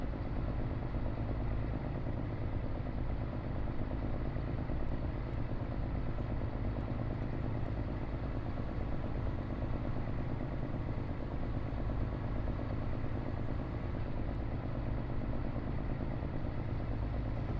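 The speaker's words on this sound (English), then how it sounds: "We can turn this tractor off then." Tractor engine in Farming Simulator 22 runs at a steady, continuous drone throughout, loud and unbroken with no talking over it.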